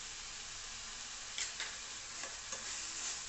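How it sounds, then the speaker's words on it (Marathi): Ginger garlic paste sautés with onion and tomato in oil, giving a soft, even sizzle with a few light stirring clicks near the end and no voices. "याला आपण छान असं तेल सुटूस परतून घेऊया आणि नंतर आपले मसाले घालून घेऊया।"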